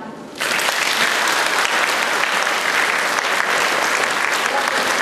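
Loud, dense applause from an audience at a creative evening erupts suddenly after a quiet song ending and holds as a sustained roar of many hands, with a voice faintly beneath.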